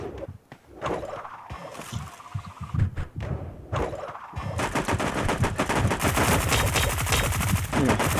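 Gunfire in the shooter game Sausage Man: scattered single shots and thuds give way to dense, rapid automatic bursts that grow louder and run almost unbroken through the final seconds.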